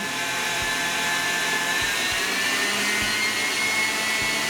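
Electric mixer on its highest setting whipping pumpkin cheesecake batter in a bowl, a loud steady whirring drone with faint knocks of the beaters against the bowl, no talking.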